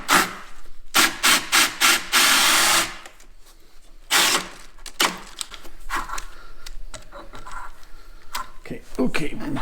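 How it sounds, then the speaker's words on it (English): A handheld drill bores out holes in a welded exhaust flange for a 650SX rear exhaust conversion, loud whirring bursts of several seconds each that start and stop, with a voice talking in places. "So we'll go ahead and drill these out."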